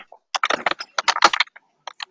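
Keyboard keys clatter in quick, uneven bursts on an open webinar call line, close and crisp against silence, with a brief pause before a final few taps.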